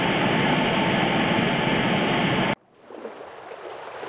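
Flowing water in the horror video game Bad Parenting, a loud, steady broadband rush that cuts off abruptly partway through, leaving a quieter, fainter ambient wash.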